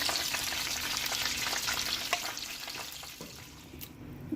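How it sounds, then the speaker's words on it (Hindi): Chicken pieces for burgers crackle steadily as they fry crisp in hot oil, a dense, close sizzle that holds for the whole stretch and eases slightly toward the end, with no talking. "ये देखिए हमारे हो गए हैं क्रिस्पी क्रिस्पी चिकन पीस, मतलब बर्गर के। अब हम इसे उतार रहे हैं।"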